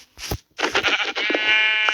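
Sheep in the video game Minecraft bleat several times in close succession, loud and near, with a short gap early on and a sustained wavering bleat toward the end.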